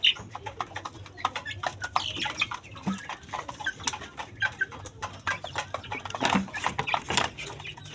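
Young rooster (stag) and other chickens in a backyard setting, with scattered short clucks and calls repeating across the span at moderate distance, no one talking.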